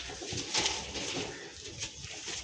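Highflyer Madrasi pigeons coo softly, a faint, continuous, throaty murmur at close range with a few slightly louder swells, and no one speaking.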